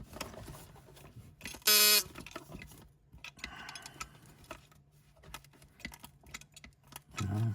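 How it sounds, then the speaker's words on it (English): The buzzer of a vintage 1950s Fairylite Morse signalling set gives one loud, sharp buzz lasting about a quarter second, followed by faint clicks and handling noises of the toy. "So there's a buzzer and there's a light going on."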